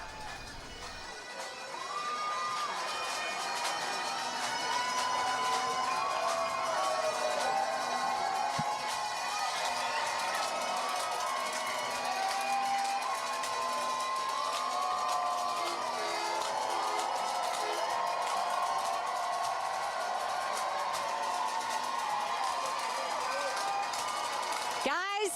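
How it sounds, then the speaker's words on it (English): A dense crowd cheers at the Tennessee baseball team's championship celebration downtown, a continuous roar of voices and shouts held steady throughout, with people talking and calling out nearby. "Let's listen in once again as we hear the crowd."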